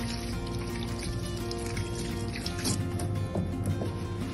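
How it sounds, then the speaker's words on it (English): Warm water runs steadily from a tap while hands are rinsed, a continuous close splashing and dripping that stays at an even level without pauses. "rinsing with nice warm water"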